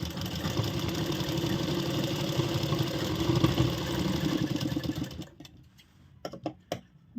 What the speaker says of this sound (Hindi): इस तरह कंधी को एक बराबर रखेंगे और यहाँ से सिलाई लगा देंगे